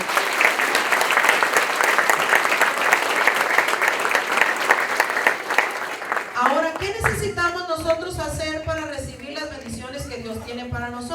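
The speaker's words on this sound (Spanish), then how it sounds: "Un aplauso fuerte a nuestro Señor" A church congregation at a Catholic sermon breaks into loud, dense applause for about six seconds before it gives way to louder music with a singing voice.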